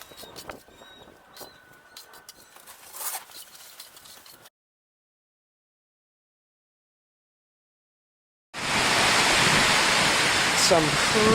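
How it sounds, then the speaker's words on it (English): Heavy rain pours down in a dense, loud, steady roar that starts abruptly after a silent gap. Earlier, quieter sounds come from a job rendering a wall. "Some crazy rain."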